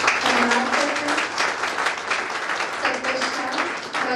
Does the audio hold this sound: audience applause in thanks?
yes